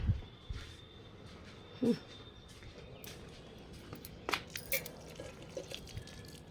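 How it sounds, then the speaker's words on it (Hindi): Water poured onto potted plants makes soft, scattered splashes and drips, quiet and uneven, with a few sharper spatters and no voices. "पहले सारे पौधों में पानी डाल दूँ"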